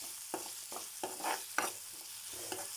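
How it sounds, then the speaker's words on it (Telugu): Ginger garlic paste fries in a pan with onions while a spoon stirs it, giving faint, soft sizzling punctuated by several quick scraping strokes at an irregular rhythm. "ఇందులో కొద్దిగా అల్లం వెల్లుల్లి పేస్ట్ వేసుకోవాలి. వేసి ఫ్రై చేసుకోవాలండి."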